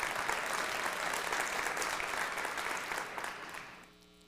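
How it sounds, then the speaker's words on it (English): Sustained audience applause at a live state-of-the-city address in Flint, a dense even roar of clapping that holds steady, then gradually fades and thins out near the end. "Give that a round of applause."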